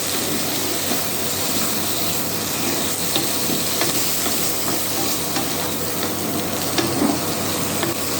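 Fish fries in a pan for a capsicum dish, giving a steady, close hiss and sizzle with faint stirring scrapes and crackles throughout, and nobody speaking.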